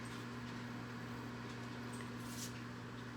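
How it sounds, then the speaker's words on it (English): Microwave oven running while popping popcorn, a steady low electrical hum with a faint fan whir, continuous and close, with no talk. "You can hear the microwave going."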